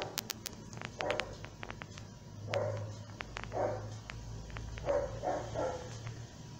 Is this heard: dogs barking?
yes